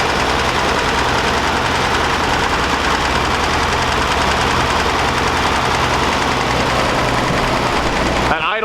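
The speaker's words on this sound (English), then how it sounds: "This engine starts rough and idles like crap. And if you listen close, you're going to hear a little bit of a tick." An old car engine idles roughly, its speed bouncing unevenly, with a faint rapid valve tick riding over a loud continuous mechanical clatter, heard close and alone.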